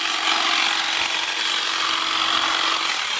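A Seesii cordless telescopic hedge trimmer cuts grass along lawn borders, giving a steady, close, loud buzzing whir that runs without a break and with no talk.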